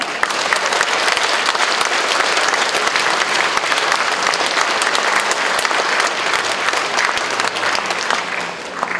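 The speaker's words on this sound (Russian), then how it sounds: "Встречайте дружными аплодисментами" A concert audience at a solo concert gives a loud, dense, continuous round of applause to welcome an opera soloist, a steady crackle of many hands clapping close by that fades slightly at the end.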